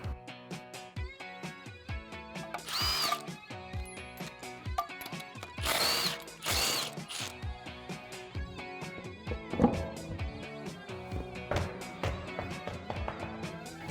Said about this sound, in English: Now I'm going to be using a 19 millimeter socket and my spline key.